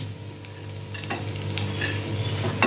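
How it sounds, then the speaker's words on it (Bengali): Dried fish fries in plenty of oil with tomatoes nearby, a close, steady sizzle broken by sharp stirring clatters and spoon scrapes against the pan, with no voices. "আর আমি এখন তেল দিয়ে সেঁকে সেঁকে তুলে নেব"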